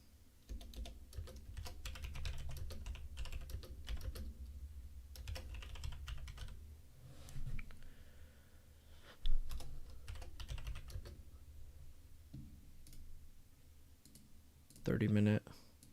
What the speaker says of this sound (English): I guess I can type that.